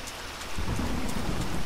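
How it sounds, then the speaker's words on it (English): Rain pours steadily in Tomb Raider: Definitive Edition, and a deep rumble of thunder swells in after a brief lighter patter, filling the scene with a dense, constant hiss. "Of course it rains."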